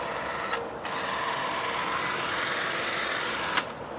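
An electric hoof buffer runs near a horse with a steady close whirring motor drone throughout, with a couple of brief louder scrapes or knocks as it is handled.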